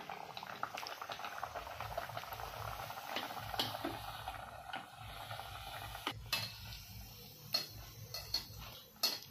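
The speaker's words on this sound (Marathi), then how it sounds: "हे पहा मंडळी, तेल तापलेलं आहे. आता तेलात आपण छान सोडूया." Bhatura dough fries in hot oil with a quiet, busy bubbling and crackle, dotted with small ticking pops that grow sharper toward the end.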